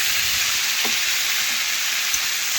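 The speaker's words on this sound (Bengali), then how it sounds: "এখন খুরপি দিয়ে ভালোভাবে একটু নাড়াচাড়া করে একটু ভেজে নিচ্ছি" Drained boiled papaya fries in a pan while being turned with a spatula, giving a loud, continuous hissing sizzle with only faint stirring taps beneath it.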